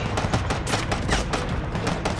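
Dense, continuous rapid gunfire from a video game, loud and unbroken, with bursts overlapping throughout.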